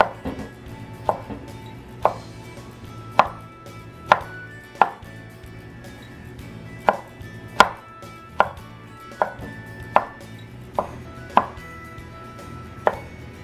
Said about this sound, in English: And finally, I'm going to chop the leaves.